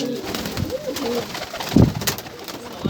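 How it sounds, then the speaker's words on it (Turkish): Racing pigeons coo close by in a loft. Soft, throaty coos rise over a busy background. "Bunlar yarış postaları mı onlar dedin abi?"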